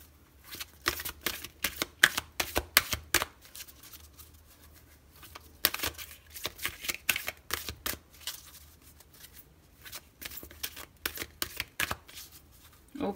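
Tarot cards are shuffled by hand in close, crisp riffling bursts that repeat in uneven clusters throughout, with no talking.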